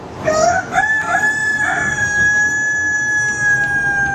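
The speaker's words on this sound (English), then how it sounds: "You can even hear the sound of the cockcrow at dawn." A rooster crows at dawn, one long, loud, close cock-a-doodle-doo whose drawn-out final note holds steady to the end, with no talk over it.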